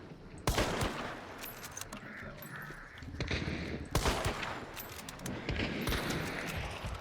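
Bursts of rapid gunfire in a video game come at fairly close range, separated by short gaps, with loud fusillades at the start and again midway, over busy game noise.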